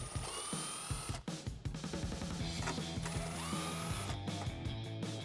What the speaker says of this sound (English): I'm gonna use a 10mm socket and go ahead and remove those.